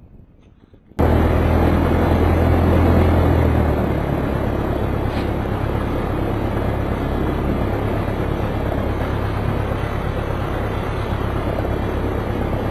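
Piper Tri-Pacer light aircraft engine starting on an overcast day, a quiet moment before the engine bursts into a loud steady droning rumble close by that settles into an even idle, no speech.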